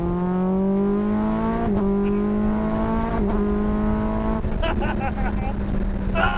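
Road-legal Cup 200 race car engine screaming up toward 11,000 RPM, a loud close in-cabin whine that climbs in pitch, shifts, and climbs again with brief gear-change dips, continuous throughout.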